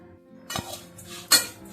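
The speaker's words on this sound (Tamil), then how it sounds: "2 கப் அவளையும் சேர்த்து வறுத்துக்கலாம்." Flattened rice being stirred with a metal utensil while dry-roasting in a pan, two sharp clinks of metal against the pan over a faint scraping rustle.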